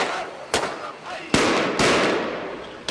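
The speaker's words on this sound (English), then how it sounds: "The fireworks were to tell people it was time for the evening protest" Fireworks go off in Zabadani near Damascus, Syria, signalling an evening protest: several sharp bangs and crackling bursts at irregular intervals, loud and fairly close, with a hissing rumble between them.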